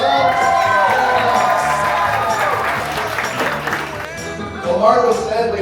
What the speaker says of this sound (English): one more round of applause for the bride and groom